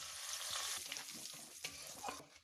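Dried red chillies, bay leaf and cumin frying in hot oil as a tempering for a yogurt mutton curry, giving a steady, fairly quiet crackling sizzle with a few small pops, close by and without talk.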